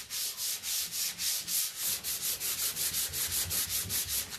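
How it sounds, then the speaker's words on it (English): Quick, rhythmic back-and-forth rasping of 220-grit sandpaper scuffing a wood furniture surface, close and steady, with no voices. "So this is what I mean by scuff sanding."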